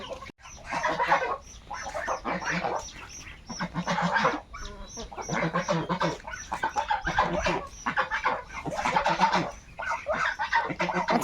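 A flock of Chinese ducks kept by a farmer near a river calls in repeated bursts of nasal quacking, about a dozen loud close calls with short gaps between them.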